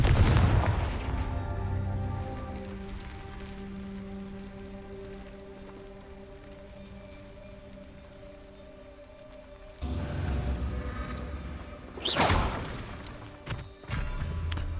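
Confringo blasting spells explode in the video game Hogwarts Legacy: a steady tonal game drone gives way to several sharp, loud booming bursts near the end, with a crackling rain-like texture between them.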